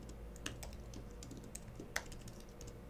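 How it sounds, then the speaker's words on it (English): Typing on an iPad Pro keyboard: scattered, fairly faint key clicks at an uneven pace over a steady low background hum, with no talking. "So we're gonna type in all users."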